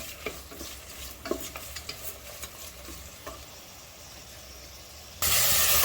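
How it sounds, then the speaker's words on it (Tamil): Onions sautéing with salt in a pan for a country chicken curry give a steady low sizzle, with scattered scrapes and clicks from stirring and no talking. "கொஞ்சம் உப்பு போட்டு வதக்குனா சீக்கிரம் வதங்கிடும்"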